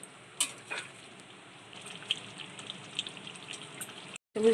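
Ghee hits a hot pot of Kashmiri aloo dum, giving a faint, soft sizzle with a few sharp clinks and spatters, quiet and close, then a brief cut and a louder scrape at the end.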